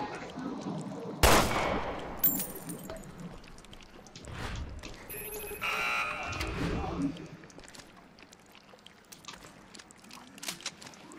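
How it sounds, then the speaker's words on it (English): Gunfire aimed at an enemy in the Resident Evil Revelations 2 video game, with Claire's episode one: a sharp loud shot near the start, then scattered bursts and impacts amid game ambience and occasional voice sounds. "Let me try shooting it down."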